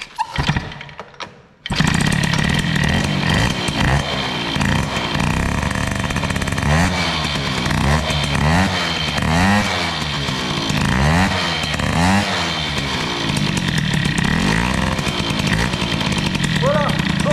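Moped two-stroke engine fitted with a BOOST cylinder head, running after its carburettor mixture was enriched: it starts abruptly after a brief quiet moment, then idles and revs in a loud, buzzing drone with repeated rising and falling throttle blips.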